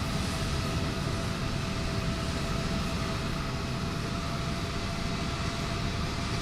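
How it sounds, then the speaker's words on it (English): Steady airplane engine drone inside Microsoft Flight Simulator 2020, a constant broadband roar with faint tonal hums holding at an even level throughout, no voices. "plane noise has picked up just a tad, so we're just gonna bring that down a tiny bit here"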